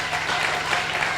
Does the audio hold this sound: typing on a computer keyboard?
no